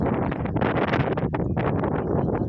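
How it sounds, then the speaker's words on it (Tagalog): Steady wind gusts buffet the microphone at a mountaintop sea-of-clouds viewpoint in Alcoy, Cebu, a loud rushing roar that swells and dips with no voices. "Hangin."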